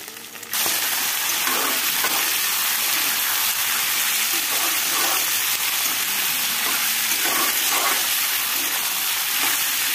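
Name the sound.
duck meat stir-frying in oil with onion, ginger, garlic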